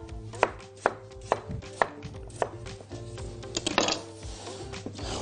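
Green onions sliced with a knife on a board, a close series of crisp evenly spaced chops, about eight strokes, then a faster, busier flurry of cuts near the end.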